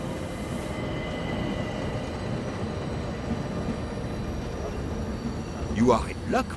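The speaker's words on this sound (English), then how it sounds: "Now we can sit back and enjoy a relaxing train ride." Steady rumble of a moving Orient Express train carriage, with metallic wheel squeals near the end. A voice speaks over the noise.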